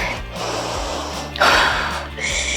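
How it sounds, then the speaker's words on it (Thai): Loud, close breaths during a no-equipment home fat-burning workout: a long exhale, then a sharp, forceful gasp mid-way, followed by another steady breath, with a faint musical backing underneath. "หายใจเข้าลึกค่ะ"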